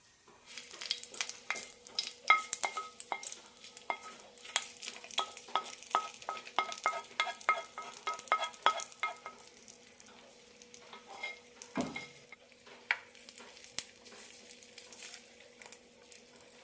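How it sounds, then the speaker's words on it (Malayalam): Mustard seeds and curry leaves dropped into hot oil for an onion-tamarind chutney tempering, a close, crackling sizzle with rapid popping and spattering that thins out over time. "ഇനി ഇതിലേക്ക് കടകും കറിവേപ്പിലയും തളിച്ചിടാം"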